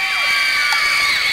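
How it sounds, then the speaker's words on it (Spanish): A concert crowd of girls shouts and cheers loudly in one sustained burst, with a high tonal sound running through the noise. "¡Chicas, un grito!"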